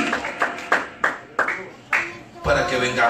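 Rhythmic clapping in a church service, a steady series of sharp claps roughly every half second, moderately loud, building into a denser burst of applause at the end.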